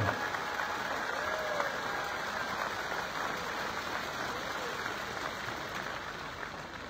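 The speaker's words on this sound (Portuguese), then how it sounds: "Mais palmas!" A church congregation in Catete, Angola, applauds steadily in a large room, a dense even patter of many hands that holds at a constant level throughout.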